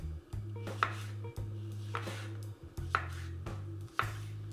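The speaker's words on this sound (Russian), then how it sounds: "Грибы порежем пластинами" Knife slicing mushrooms into thin slabs on a board, a few sharp chopping strikes spaced about a second apart, close and distinct over a steady low hum.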